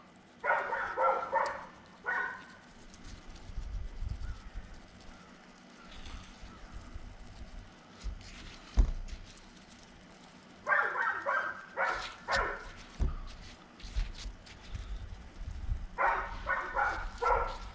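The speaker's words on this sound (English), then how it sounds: "the dogs are barking today" Dogs barking outdoors on a fine day in Oklahoma, in several short bursts of repeated barks at moderate distance, separated by quieter stretches of outdoor background noise.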